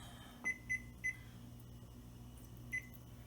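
Four short, clear electronic beeps from a kitchen timer being set, the first three quick and close together and a last one after a pause, over a low steady hum from a stovetop pot of steaming broccoli.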